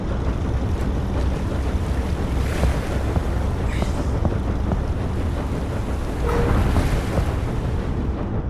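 In the ship simulator game Seafarer: Ship Sim, ocean waves wash and surge continuously around a ship, with steady wind rushing over the dense, loud wash.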